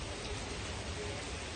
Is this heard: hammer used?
no